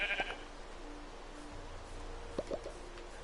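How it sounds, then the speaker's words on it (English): Sheep in the Minecraft Bedrock Edition video game bleat in a few short, faint calls, one near the start and a couple more toward the end. They sit over quiet game ambience, with no talking. "There's another sheep."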